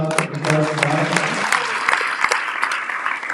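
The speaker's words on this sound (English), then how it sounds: "So let's give another round of applause." A temple congregation at a Sunday feast class at ISKCON Durban breaks into a round of applause, lively clapping with distinct sharp claps up front, some voices talking over the start.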